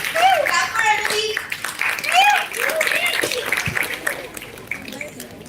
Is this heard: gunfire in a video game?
no